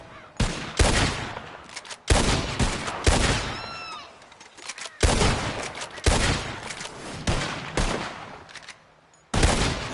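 Close, loud gunshots ring out in a PS4 video game as birds are shot, several sharp blasts in irregular succession with brief decaying tails and short pauses between them.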